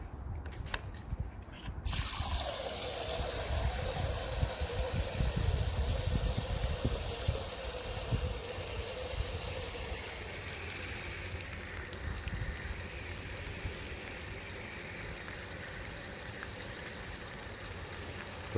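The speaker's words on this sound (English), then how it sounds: "turn the tap on." Tap water pours steadily into a homemade aquarium overflow, a continuous rushing, splashing flow that starts abruptly after a brief quiet moment and keeps running loud and close, with no talking.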